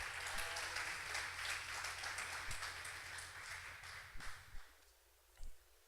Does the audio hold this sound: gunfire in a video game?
no